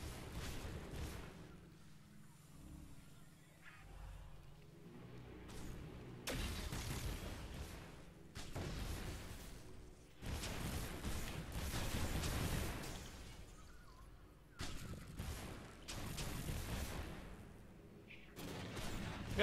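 Howitzer artillery firing in the real-time strategy game Grey Goo, bursts of booming shots and explosions arriving in waves, fairly faint overall with quieter gaps between volleys.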